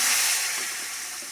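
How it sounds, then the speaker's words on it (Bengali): Potatoes hiss and sizzle steadily in hot oil for a rohu fish curry, a close, continuous frying sound that eases slightly, with no talking. "এবারে আলু ছেড়ে দেবো"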